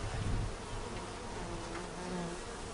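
Honeybees buzz steadily around an open hive during an apiary inspection, a dense, continuous close drone with no voices.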